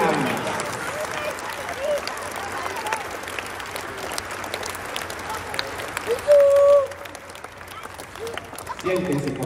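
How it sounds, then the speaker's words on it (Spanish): Applause from children at a Venezuelan armed forces promotion ceremony held at the Ministry of Defense, a sustained clapping crowd running throughout under a voice, with one brief louder burst near the end. "Aquí suena mucho el aplauso de los niños,"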